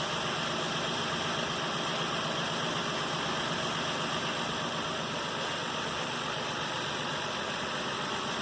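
A 2008 Nissan Pathfinder 4.0L V6 engine idles steadily and loudly throughout, recorded from a camera mounted on the engine, a constant mid-pitched rumble with a dense, even hiss and no pauses.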